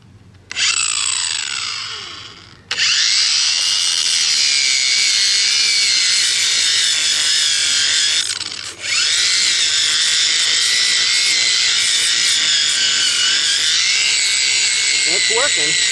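A stump grinder chews through missed roots with a loud, steady mechanical roar that starts abruptly, briefly drops off, then resumes and runs continuously, with one short dip partway through.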